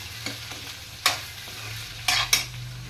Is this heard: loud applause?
no